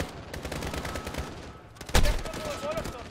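Gunfire aimed at the player in Call of Duty Modern Warfare, a rapid spray of shots crackling through a busy combat mix, with one sharp loud blast near the two-second mark and scattered reports after it.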